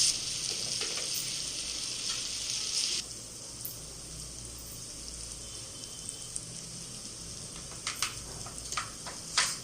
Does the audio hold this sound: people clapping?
no